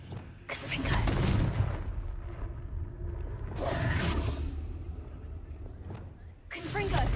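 Confringo blasting spell cast in the video game Hogwarts Legacy, several loud bursting whooshes in succession, each a broad explosive rush that lingers before fading, with speech between them.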